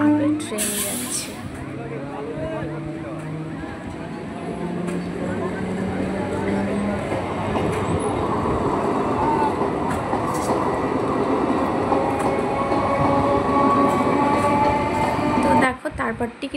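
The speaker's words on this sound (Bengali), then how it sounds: "তো দেখো আপের ট্রেন যাচ্ছে।" An up passenger train rolls through a station close by, a steady rumble with clattering wheels and rising rail noise that builds throughout, and no talking.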